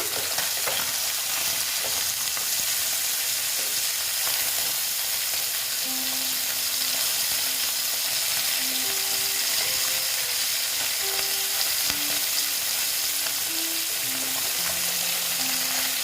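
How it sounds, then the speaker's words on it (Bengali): Small bata fish frying in a pan of oil, a loud continuous sizzle that holds steady throughout with light stirring movements. "মাছ দিয়ে মাছগুলো এবার ভাজা হতে দিচ্ছি"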